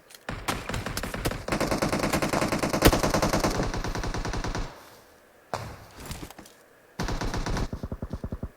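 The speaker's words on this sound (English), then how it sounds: "Edwin doesn't hear anything due to all the gunshots." Rapid automatic gunfire rattles in long continuous bursts, loud and close, pausing briefly before another sustained volley.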